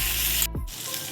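Chicken sizzling in a hot pan for dry chili chicken, a close, steady crackling hiss that briefly drops away and then returns.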